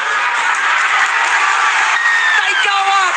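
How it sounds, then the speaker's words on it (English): Sea Eagles fans in a rugby league crowd at Brookvale Oval roar and applaud after a late match-levelling goal, a loud, sustained wall of cheering and clapping, with a few whistles rising near the end. "The Sea Eagles fans celebrate"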